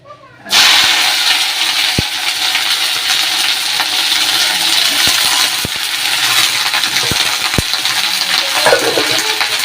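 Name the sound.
okra spluttering in hot oil in a wok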